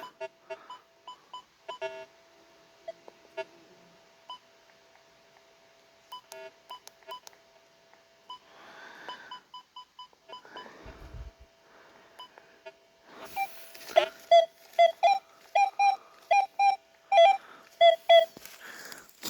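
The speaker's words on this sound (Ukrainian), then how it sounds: "І тут є сигнал, тільки треба зменшити голос." A Rutus Versa metal detector gives its signal. Sparse, faint electronic pips come first, with rustling handling sounds in between. Toward the end a loud, rapid string of repeated beeps follows, close by, with no speech.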